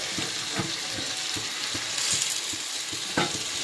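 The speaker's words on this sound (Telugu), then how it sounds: "చేప ముక్కలు అయితే కారం అయితే వేసుకున్నానండి, మగ్గుతున్నాయి." Seelavathi fish pieces with chili powder simmering and being stirred in a pan for Godavari-style fish pulusu: a soft, constant sizzle with evenly spaced scraping stirring strokes, close by.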